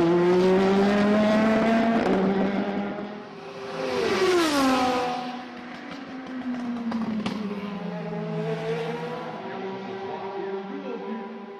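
Peugeot diesel prototype race cars at the 24 Hours of Le Mans roar past loudly, with engine pitch sweeping up and down as cars pass close by, then a sustained lower drone continues.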